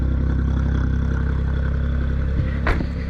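A Japanese kei car idling through a real muffler exhaust, a steady, even low engine burble held throughout at close range, with a small knock near the end and no talk.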